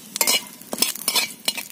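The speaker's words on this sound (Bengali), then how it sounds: "পাঁচফোড়নটা একটু ভেজে নেব" Panch phoron spices with a bay leaf frying in a little oil, bursts of sizzle and spatter broken by scraping stirs in an uneven rhythm, close and moderately loud, no talk.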